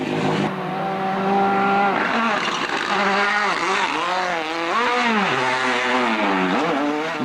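Ford Escort WRC rally car competing in the 1998 Rallye du Condroz in Belgium, its engine loud and close, revving hard with rising and falling pitch sweeps as it shifts and accelerates, a sustained roar with no talk.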